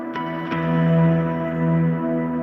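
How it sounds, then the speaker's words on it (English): A couple of plucked guitar notes ring out and sustain into a steady tone, clear and close with no voices. "This is the sound of my guitar."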